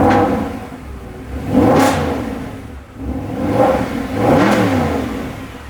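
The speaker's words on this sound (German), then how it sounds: "dann startet sich das Auto" A 2010 Mercedes SLS AMG coupé in sapphire red cranks and fires, then its engine is blipped through several loud, close revs that rise and fall in repeated surges.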